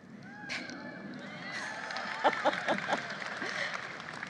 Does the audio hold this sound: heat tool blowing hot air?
no